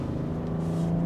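BMW X6 M50d engine note played through a sound generator, a steady low hum with a smooth tonal drone, heard from inside the cabin, brief and continuous.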